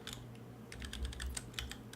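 Typing on a computer keyboard while writing Rust code, rapid irregular key clicks in clustered bursts, close and fairly quiet over a low steady hum, with no talking.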